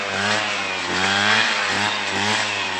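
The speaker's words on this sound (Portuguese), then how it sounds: "Agora ele pegou na roçadeira aí, ó, gente." A gasoline brush cutter trimming vegetation on a rural ranch drones loud and close, its high engine whine holding steady with slight pitch dips as the blade bites.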